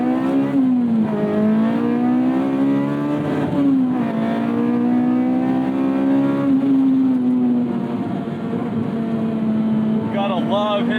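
Honda Type R K20 engine swapped into a car, revving hard up through the gears and bouncing off the hard rev limiter, a loud sustained engine note filling the cabin with rising pitch and no talking.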